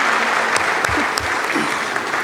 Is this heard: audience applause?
yes